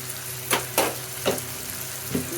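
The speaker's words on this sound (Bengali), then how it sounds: "চিংড়ি মাছটির সাথে দিয়ে দেব, সবগুলো ভালোভাবে ভেজে নিব" Prawns fry with spices in a pan, a steady close sizzle punctuated by four distinct stirring scrapes spaced about half a second apart.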